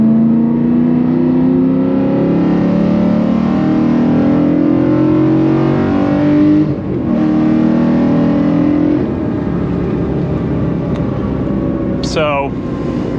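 BMW E92 M3 on Fortune Auto 510 coilovers, driving with a steady loud engine and road drone that rises and eases through gear changes, and a brief squeak near the end.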